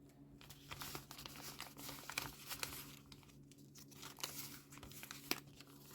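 Paper packets crinkle and tear as hands rummage through them, a steady close rustling with sharp crackles and a few louder snaps, no talking.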